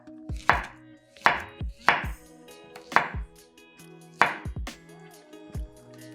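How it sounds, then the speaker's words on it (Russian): A knife cuts a banana into slices on a board, giving six or so crisp, evenly spaced chops close to the microphone, in a quiet kitchen with no talking. "1 банан нарезаем пластинками."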